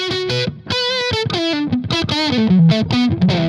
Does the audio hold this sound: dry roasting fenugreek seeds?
no